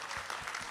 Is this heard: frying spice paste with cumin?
no